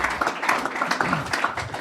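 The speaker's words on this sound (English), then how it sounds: "Yeah, clap it up." A short burst of clapping from a small group during a business talk show recording, with scattered claps rather than full applause, close and moderately loud.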